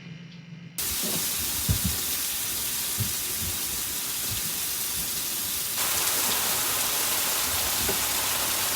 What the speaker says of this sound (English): now it's time to put it on the grill